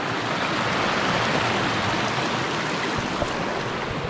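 A mountain stream in the Eastern Sierra flows in a constant, close rushing hiss of water, steady and unbroken with no voices.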